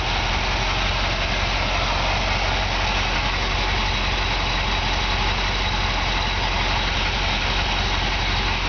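An old 1952 Ford F1 pickup truck engine idles steadily at close range, a constant low rumble with no pauses or voices.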